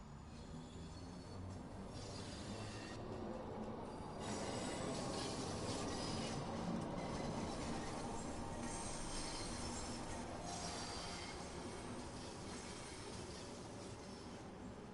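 A London Underground Bakerloo line train from the Train Sim World 2 game rumbles and rolls steadily along the track, with wheel squeal and a constant loud hum throughout and no talking.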